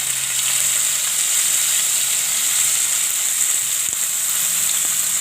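Green onions sizzling in hot oil in a pan, a steady bright hiss of frying that holds evenly throughout, close and fairly loud with faint clinks, no talking.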